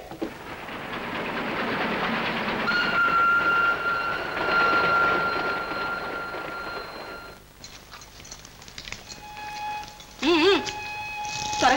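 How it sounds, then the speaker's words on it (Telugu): A steam train whistle blows at a railway station, a sustained tonal shriek for several seconds followed by further wavering whistle notes, over a noisy platform backdrop of crowd bustle. "రైలు కూడా కూసేసింది."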